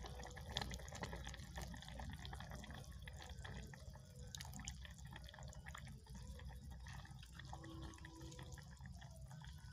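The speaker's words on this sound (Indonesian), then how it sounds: "kita tambahkan santan instan. Kita masukkan." Instant coconut milk is poured into simmering opor ayam broth, a faint, continuous liquid trickle and bubbling throughout.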